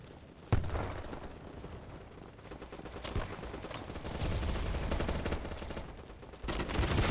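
Rapid automatic gunfire from an MP5 in the shooter game Battlebit, loud dense bursts that run almost without a break, with a sharp onset near the start and another burst toward the end.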